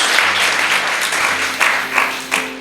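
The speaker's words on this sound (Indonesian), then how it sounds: "Tepuk tangan yang paling meriah buat Tuhan Yesus." A church congregation applauds with a dense wash of clapping that swells and pulses in a few bursts, loud and close, with faint voices mixed in.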